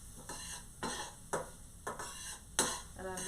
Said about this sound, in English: it's sizzling now